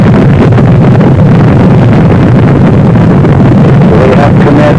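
Saturn V rocket engines of Apollo 8 at liftoff, a loud, continuous low roar and rumble with broadband wind-like buffeting that holds steady and close throughout.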